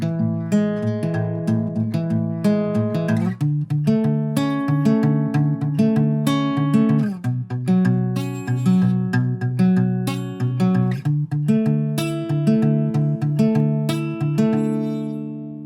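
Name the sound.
guitar fingerpicking chords of a song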